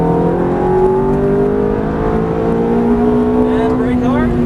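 Ferrari F430 engine pulling hard at full throttle on a race track, a loud sustained rising howl climbing steadily in pitch over several seconds, with a shift-like change near the end.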